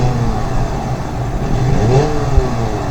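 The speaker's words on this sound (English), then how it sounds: "let's just give these vehicles a little rev here" A small crawler vehicle's little engine revs in the off-road driving game BeamNG.drive, a steady mid-pitched drone that swells slightly toward the middle and holds close and loud throughout, with no talking.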